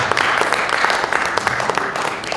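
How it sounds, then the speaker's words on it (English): Audience applause for a conference volunteer team, a steady burst of many hands clapping throughout, loud and close, with no talking over it. "Please give them a big round of applause."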